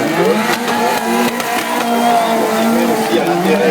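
A Group B rally car races at the 2013 Circuit des Remparts historic event, its engine loud and close as it revs up and down through the gears, with someone talking over it.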